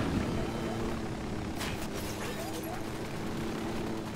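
A helicopter's rotor drone hums steadily in the background of action in the video game Ghost Recon: Wildlands, with a few sharp bursts and speech-like sounds over it.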